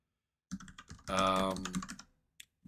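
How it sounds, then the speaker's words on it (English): Rapid computer keyboard typing, close and fairly loud, with clusters of quick key clicks and a short dense burst of keystrokes in the middle, then a few sparse taps near the end; no talking. "Sorry about the typing."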